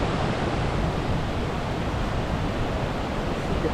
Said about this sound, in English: See the falls.